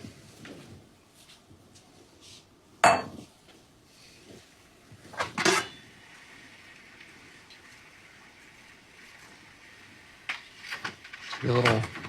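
A lid goes onto a pot of stewing lobster with andouille and corn, making a few sparse, sharp clanks and knocks over a low, quiet kitchen background.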